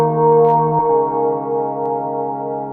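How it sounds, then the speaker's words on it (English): A Roland S-1 synthesizer plays a sustained organ-like chord with a very long reverb, loud and steady, shifting to a new chord partway through while the previous notes hang and slowly wash into the tail. "So I've got it set on an incredibly long reverb."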